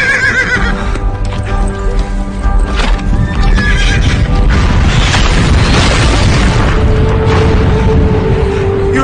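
Horse galloping with pounding hoofbeats and loud neighing, mixed with booming impacts in a loud, dense action scene, the whinnies rising over continuous thudding.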